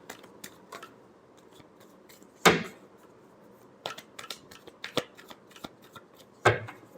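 Tarot cards are shuffled in soft riffling bursts, with a few sharper snaps of the deck between quieter rustles, close and fairly faint.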